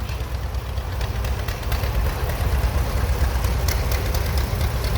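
A John Deere tractor pulling a restored John Deere plow runs its engine in an antique tractor parade in Georgetown. A loud, steady low chugging rumble holds throughout, with faint metallic ticks above it.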